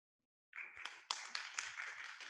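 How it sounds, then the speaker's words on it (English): Faint, scattered handclaps from an audience after a talk, starting abruptly after a short silence and growing into a thin round of clapping. "The audience is about to clap."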